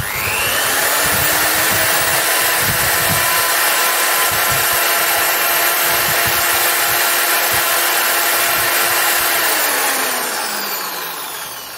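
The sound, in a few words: Yasuka wall drill running at minimum RPM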